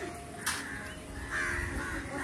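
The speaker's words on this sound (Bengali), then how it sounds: "পাখিগুলো ওদের বাসা খুঁজছে" Crows cawing outdoors, a few harsh calls spread across the moment over a steady background hiss like light rain.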